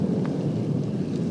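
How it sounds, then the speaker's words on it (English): Rain and thunder roll in outdoors during a crayfish catch-and-cook, producing a continuous deep, heavy rumble with a dense hiss of rainfall throughout. "It's like our rain's coming back."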